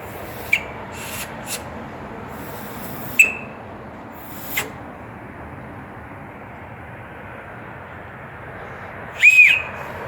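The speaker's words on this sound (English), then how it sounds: "It's a decently loud whistle." An emergency whistle from a Camillus Warrior Pack survival kit, blown in several short, sharp blasts over quiet background noise, with a louder, longer double blast near the end.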